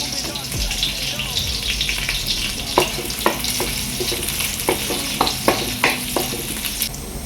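Sliced onions and green chillies fry in a pan for egg fried rice, loud and close, with constant sizzling broken by a run of sharp clatters from stirring.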